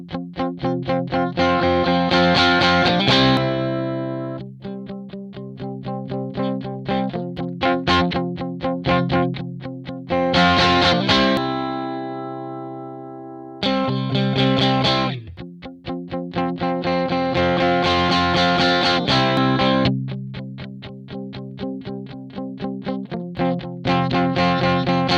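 An electric guitar plays chords and riffs through a Hiwatt HG100 amp model, moderately loud with pauses between phrases and some distortion on the strums.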